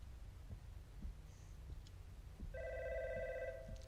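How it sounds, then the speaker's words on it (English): An eerie phone rings in a horror video game set in a basement, a sustained electronic tone starting partway in over a slow, low thumping pulse, moderately loud with no talking. "Eerily ringing phone."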